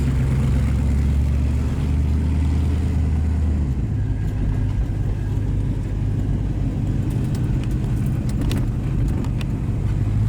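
A 1952 Chevrolet Bel Air rumbles steadily as it drives and swings through a U-turn in a parking lot, its low engine note close and continuous, with a slight shift in tone partway through and faint rattles above.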